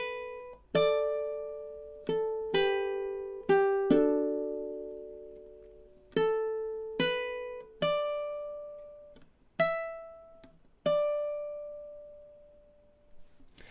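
Ukulele chord melody for a catchy fingerpicked and strummed tune, measures five through eight played through alone: about a dozen plucked chords and notes in a steady rhythm, each ringing out and decaying, close and clear.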